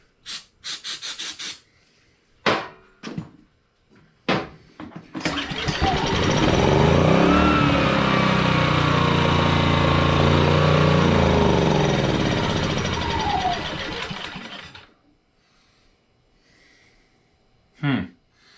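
A petrol generator with choke set and fuel on is pull-started, a few sharp cranking bursts before the engine catches and runs loud and steady for about ten seconds, then cuts out, followed by more brief pull sounds.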